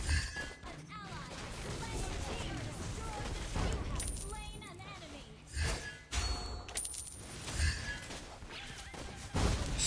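Granger's rapid gunfire from the Mobile Legends video game, a dense volley of sharp shots and crashing impacts with repeated bursts over several seconds, heard under someone talking.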